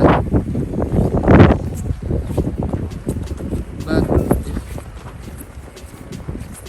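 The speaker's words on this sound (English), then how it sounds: "if you actually hear it's pretty windy" Strong wind gusts during a 2022 New England blizzard roar and buffet the microphone outdoors near a corner store, with louder bursts and steady blustery noise throughout.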